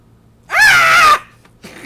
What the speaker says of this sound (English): The last thing I remember before slipping away are the sounds of Iwanako screaming for help.